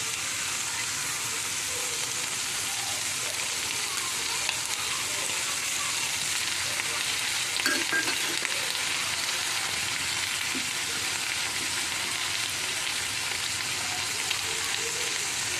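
Ginger-garlic paste frying in a pan with prawns and onions gives a steady, even sizzle throughout, with a few faint stirring knocks partway through and no voices.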